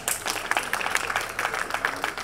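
An audience applauds at a Democratic city committee breakfast in Brockton, with a brief burst of scattered hand claps from a modest crowd, fairly near and steady throughout.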